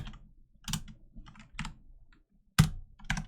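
Keystrokes on a computer keyboard while entering a location into a local citation search tool, falling in short separate bursts of clicks with pauses between them and one sharp louder tap near the end, close by with no talk.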